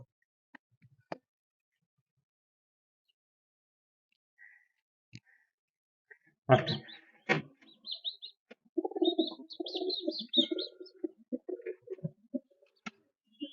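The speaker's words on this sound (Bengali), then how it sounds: "এটা আমাদের পুরান কবুতর দেখা ও এতটা সামনে আসছে, ক্লোজলি আসছে।" Home-loft pigeons, including older birds, cooing and calling close by. Quiet scattered notes give way to a louder flutter and a run of soft coos and chirps in the second half.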